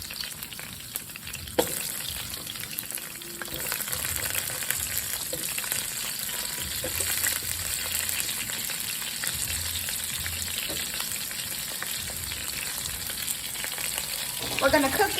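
Red potatoes fry in a pan with a steady, moderate sizzle and crackle that runs the whole time, with a soft clunk near the start and a louder scrape at the very end.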